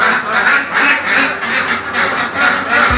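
Ducks quacking at a large meat market in Odisha, a close, loud run of repeated quacks in rhythmic bursts that keep going without pause.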